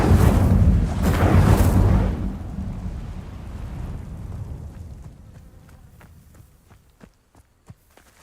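A fire spell cast in a Harry Potter video game whooshes up in a loud, roaring burst of flame that fades over several seconds, leaving faint crackles and scattered footsteps.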